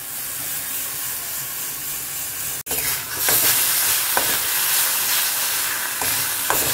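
Spice paste frying in a pan on low gas for doi katla, a Bengali fish curry, a continuous close sizzle and hiss broken by a brief cut near the middle, then resuming with faint stirring scrapes.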